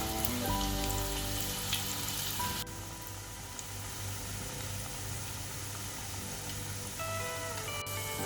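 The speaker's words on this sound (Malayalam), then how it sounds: "എണ്ണ ചൂടായി വരുമ്പോൾ ബ്രെഡിൻ്റെ മിക്സ് ഓരോന്നായി ഇട്ട് കൊടുക്കുക." Bread pakoda mix fries in hot oil, a steady close crackling sizzle that runs continuously, softening slightly partway through, with a faint hum underneath and no talk.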